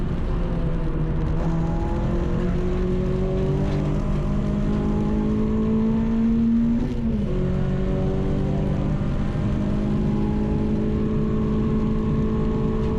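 A Renault Clio race car engine drones loudly and continuously on the Cadwell Park circuit, rising in pitch as it accelerates through the gears, with a brief shift dip midway.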